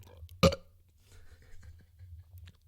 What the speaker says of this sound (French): J'ai envie de roter.